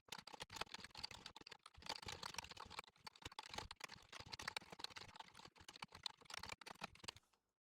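Rust code being typed on a computer keyboard, quick bursts of light, close key clicks separated by short pauses, fairly quiet and with no talking.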